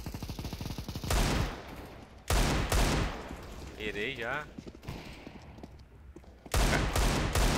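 Gunfire in CS:GO on a deathmatch Desert map, loud bursts of shots in several clusters separated by quieter stretches, with someone talking and game sounds in between.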